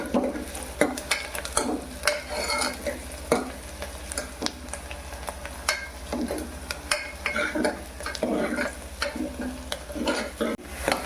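Onions frying in a pan while cooking misal, a steady close sizzle broken by repeated scraping and stirring clinks of a utensil against the pan, with a low constant hum underneath.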